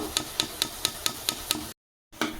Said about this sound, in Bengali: বেসনে যে মিশ্রণটা করেছিলাম জল দিয়ে ওটা আমি তেলে সবগুলো এইভাবে ভেজে নেব